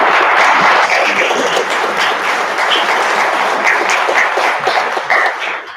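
Loud, full applause from a seminar audience after a preview discussion of a Macbeth production, thick continuous clapping that starts strong, eases slightly, then tapers toward the end.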